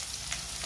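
Chopped onions and brinjal frying in oil for kathirikai kothsu, a brief, even sizzle heard up close with no voices.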